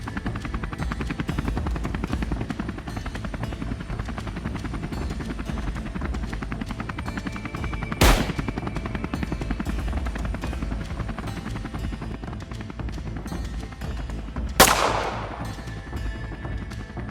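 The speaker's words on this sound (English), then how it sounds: "Our helicopter adjusted course immediately." A helicopter on a wild boar hunt flies steadily overhead with a constant thumping rotor drone, broken by two sharp gunshots, the second followed by a ringing tail.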